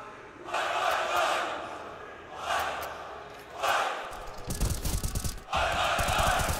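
An esports arena crowd at ESL Challenger Melbourne 2023 chants in rhythmic waves of supportive shouting during a Counter-Strike match on Vertigo. The loud, roaring chants repeat with brief lulls and build to rapid clapping and stamping near the end.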